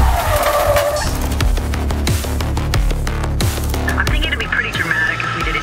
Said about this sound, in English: there is nothing sexier than a fast-driving, aggressive car chase